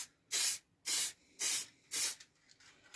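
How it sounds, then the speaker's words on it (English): Spray varnish is applied indoors onto a routed recycled wood plaque in four short, loud, hissing bursts evenly spaced about half a second apart, followed by a weaker trailing puff. "A lot of spray varnish on there, that could yellow in time"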